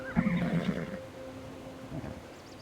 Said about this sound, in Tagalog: Oh, what's this horse?